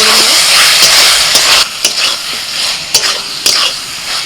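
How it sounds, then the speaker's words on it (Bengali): Fried onion and okra are stirred with spices in a hot pan: a loud sizzle at first, then quieter frying broken by sharp spatula scrapes and clacks against the metal. "এবার ওই মশলার মধ্যে আমি দিয়ে দিচ্ছি ভাজা পেঁয়াজ আর ঢ্যাঁড়স মশলার সাথে একটুখানি সব কিছু নাড়াচাড়া করে নেব"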